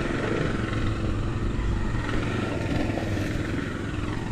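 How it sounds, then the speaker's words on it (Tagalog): A motorcycle engine drones loudly and steadily nearby on a Philippine street, a continuous low rumble filling the whole stretch without a clear rise or fade. "Hoy, may motor."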